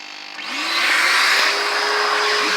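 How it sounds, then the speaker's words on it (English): A carpet extractor machine pumps shampoo into a rat-infested Vauxhall Zafira's car carpet and sucks it back out, its loud motor whine rising up and then holding a steady, close roar with a hissing suction edge. "This is all we're doing, just putting the shampoo into the carpet and just sucking it back out"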